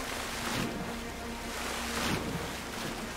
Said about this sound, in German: kann ich damit das Wasser erhöhen? Ja, kann ich.